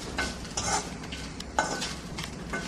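Grated coconut roasting in a pan, stirred with a utensil in repeated scraping strokes over a soft dry sizzle, close and moderately loud, with no talk.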